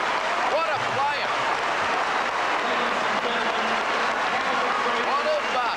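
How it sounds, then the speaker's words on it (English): A basketball crowd at a Newcastle vs Geelong game gives a sustained ovation, dense roaring cheers and clapping that fill the arena continuously, with a commentator talking over it. "The crowd give him a great ovation as he leaves the court."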